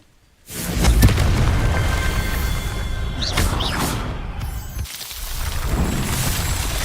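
A Confringo blasting spell in Hogwarts Legacy on PS5 erupts with a sudden deep boom, then rolls into a long, rumbling, crackling explosion wash with a few whooshes and debris clatters, loud and sustained.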